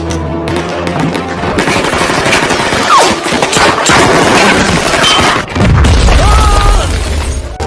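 Grenade blast and gunfire from a Stalingrad battle film with Soviet soldiers fighting Nazi troops: loud, continuous machine-gun bursts and booming impacts, with a heavy low explosion rumbling in the final seconds.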